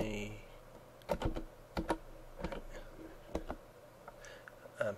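Keys clatter on a computer keyboard in short irregular bursts of clicks, close and fairly quiet, with a faint voice murmuring underneath.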